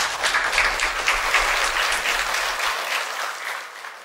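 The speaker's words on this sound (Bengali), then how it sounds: "তো হাততালি" An audience at a televised dance talent show applauds steadily, a dense, even wash of many hands clapping that holds for a few seconds and then tapers slightly toward the end.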